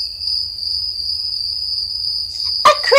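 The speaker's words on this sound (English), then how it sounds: "It is a cricket." A cricket chirps steadily and continuously at close range, a thin high trill running throughout, briefly joined near the end by a couple of faint squeaky sounds.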